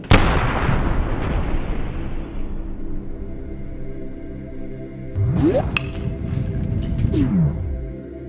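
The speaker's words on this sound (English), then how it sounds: "So we're going to have the grenade there, and Dan and I will be safe behind this little blast shield" A grenade detonates behind a small blast shield, a sharp loud boom that rolls into a long decaying rumble, followed by faint whooshing sweeps as debris or the shot settles.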